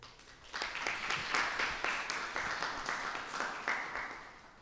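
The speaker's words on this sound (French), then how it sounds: "Il mérite des applaudissements." An audience at a school event breaks into steady applause, a dense run of clapping that builds and carries on for several seconds.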